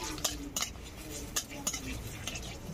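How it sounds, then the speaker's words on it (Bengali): Seven or eight dried red chillies fry in oil in a wok, heard as quiet scraping and light metal clinks from stirring over a soft, low sizzle. "আর এখানে 7-8টা শুকনো লঙ্কা নিয়েছি, দিয়ে দেবো। একটু ভাজা করে নেব লঙ্কাগুলো।"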